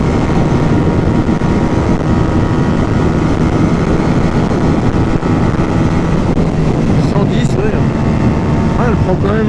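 A Masai Greystone 125 motorcycle running at speed near 100 km/h, heard as a loud, steady engine drone heavily masked by wind rush against the microphone, with a voice speaking over it.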